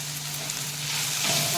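Banana flower vegetable with crushed peanuts and fresh grated coconut sizzles steadily as it is sautéed in a pan, a close frying hiss that grows slightly louder toward the end.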